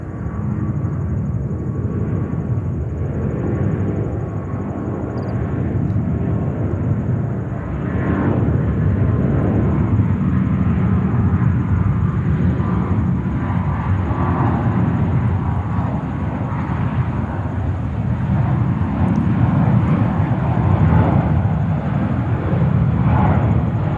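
A large jet departing JFK airport in New York rumbles with a deep, sustained engine roar at a distance, steady and unbroken throughout.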